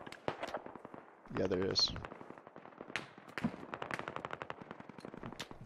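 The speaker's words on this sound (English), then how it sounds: "There's gunfire coming from my direct west, which would be north of squad 3" Gunfire in the military video game Squad crackles from the west, rapid bursts of shots sounding at mid distance, mixed with a louder blast, while a player speaks briefly over it.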